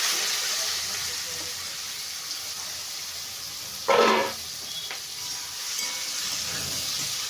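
Boiled papaya and chana dal, tempered with panch phoron, are stirred in a wok over a steady sizzle and hiss, with one brief louder scrape of the spatula partway through.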